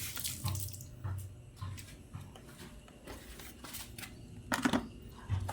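Water trickles and splashes steadily from a small pour onto potted plants, a soft running flow with a few louder splashes near the end, no talking.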